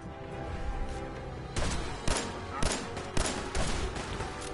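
Gunfire in the video game Fallout 4, a string of loud sharp shots spaced roughly half a second apart over a steady background din, with no talk over it.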